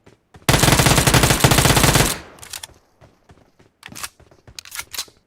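Uzi submachine gun in PUBG Mobile firing one loud, rapid burst for about two seconds, followed by scattered clicks and shuffling footsteps.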